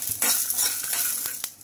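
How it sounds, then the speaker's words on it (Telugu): Peanuts and green chillies fry in hot oil for a chutney, a close, steady sizzle with light scraping and stirring clicks from a pan. "ఇంకా పల్లీలు పచ్చిమిర్చి అయితే బాగా వేగిపోయినాయండి"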